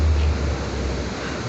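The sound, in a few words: sea waves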